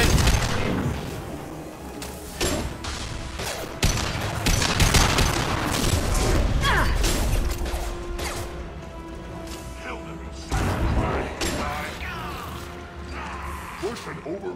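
Gunfire in a Mass Effect firefight, dense volleys of shots and impacts in irregular bursts with crashing hits, loud and continuous over a busy battle background.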